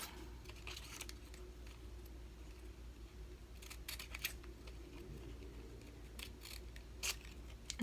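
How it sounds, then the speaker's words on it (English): Scissors snipping the triangle corners off a big sheet of craft paper, a few faint crisp cuts spaced out over a low steady hum, with no talk. "I like to cut these edges, these little triangles off"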